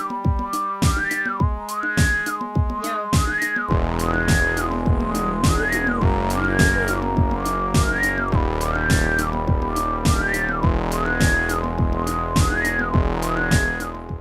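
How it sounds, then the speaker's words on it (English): A synthesizer with a highly resonant filter swept up and down gives whistle-like tones over a steady pulsing bass-and-chord pattern, alone and prominent throughout. "Sweeping a filter with high resonance."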